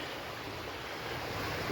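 River water rushing down toward waterfalls on a winter day, a steady broadband roar of flowing water with some wind noise, continuous and fairly close, without talk.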